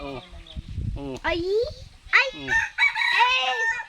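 A labuyo jungle fowl rooster crows close by, with harmonic calls rising and falling, mixed with bleating-like cries and talking voices.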